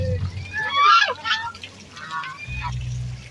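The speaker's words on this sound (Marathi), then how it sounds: "आणि बघा बदक" Waterfowl, apparently ducks, call in a few bright, nasal bursts at a roadside breakfast stop, followed by a low rumble of background noise.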